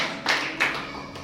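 A church congregation at an Easter service claps hands, with a few sharp claps spaced across the moment in a loose rhythm, moderately near.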